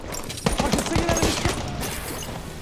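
Gunfire in a Battlefield 1 desert match on Sinai, a quick burst of several sharp cracks in close succession followed by a fading rumble, with someone talking over it.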